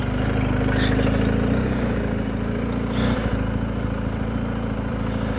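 A motorcycle engine idles nearby with a steady low rumble, barely changing throughout.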